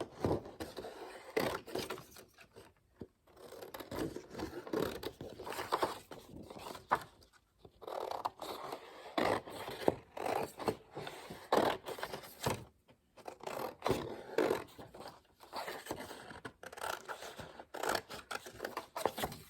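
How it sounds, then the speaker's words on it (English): Scissors cutting out a paper shape, repeated close snips and paper rustles in uneven bursts, quiet, with short pauses between cuts. "you're going to take your scissors and you're going to cut that shape out"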